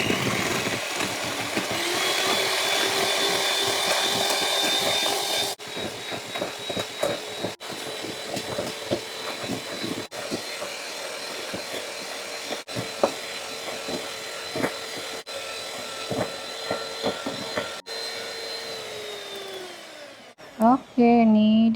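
An electric hand mixer whirs steadily while beating cake batter for an Indonesian bolu tape, with short pauses and rattling beater clicks, then winding down near the end.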